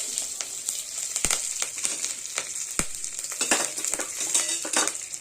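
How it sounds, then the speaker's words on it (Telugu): Mustard seeds, cumin, urad dal and curry leaves crackle and sizzle in hot oil, with sharp popping bursts over a continuous frying hiss and a few utensil clinks. "తర్వాత ఆవాలు, జీలకర్ర మంచి చిటపట్లు ఆడుతున్నప్పుడు"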